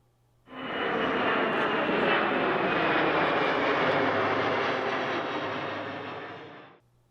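Airbus A300-600F freighter jet engines simulated in X-Plane 11, a steady loud broadband roar that swells in abruptly, holds evenly for about six seconds, then cuts off, with no voices.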